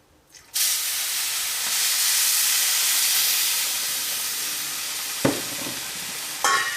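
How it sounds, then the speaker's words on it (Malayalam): Water hits a hot pan of upma mix with a sudden loud sizzle that settles into a steady hissing steam, broken by a couple of sharp clanks near the end. "ഇതിലേക്ക് നമുക്ക് വെള്ളം ചേർക്കാം."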